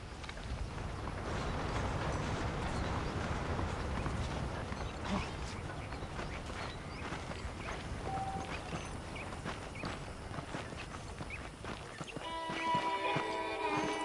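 A saddled horse's hooves clip-clopping on a ranch in the Red Dead Redemption video game, a steady, moderately faint plodding rhythm with game ambience and music entering near the end.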